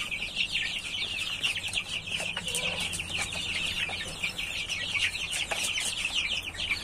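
Newly hatched chicks with their mother hen fill the air with a dense, continuous chorus of high, shrill peeping, with a few softer, lower hen sounds beneath, steady and fairly close throughout.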